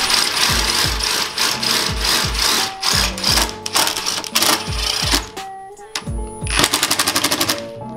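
Self-tapping screws are driven into a Mazda Miata body kit with a power driver, producing repeated short whirring bursts and ratcheting clicks, close and fairly loud, ending in a rapid rattling run.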